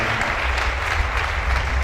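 A church congregation applauds, a brief, dense and steady burst of many hands clapping together.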